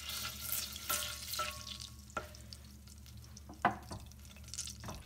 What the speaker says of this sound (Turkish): Şimdi tereyağı ve biraz sıvı yağ işte tencerenin içine koydum.